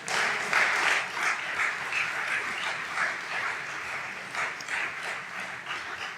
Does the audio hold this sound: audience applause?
yes